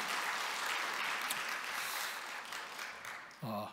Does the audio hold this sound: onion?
no